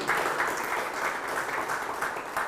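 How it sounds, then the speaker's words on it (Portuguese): A church congregation applauds in a steady, dense wash of clapping at a Portuguese-Italian prophetic conference service, loud and continuous with no break, no voices standing out above it. "Puoi dare un applauso a Gesù?"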